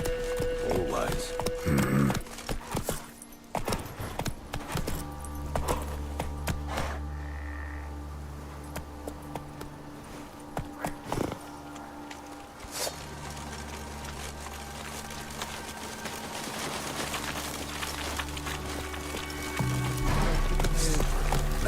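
Geralt's horse Roach galloping across open ground in The Witcher 3, rhythmic hoofbeats thudding under layered ambient music and effects, moderately loud with brief pauses.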